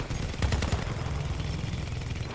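Built-in side shotguns fire on a battle vehicle in the video game Crossout, a quick burst of several sharp blasts in rapid succession, then continuous rumbling engine and combat noise.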